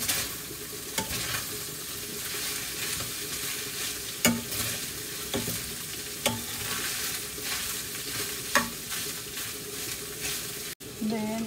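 Ground pork browns in a hot pan with a constant crackling sizzle, while a spatula stirs and scrapes at irregular intervals with distinct knocks against the pan, close up and without talk.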